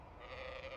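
A sheep in the Amanda the Adventurer video game gives a short, steady bleat at moderate volume, heard alone with no talking.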